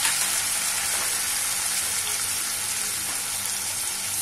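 Chopped tomatoes, turmeric and garam masala hitting hot onions in a pan for aloo chana masala, giving a loud, steady hiss of sizzling oil with faint stirring, continuous throughout.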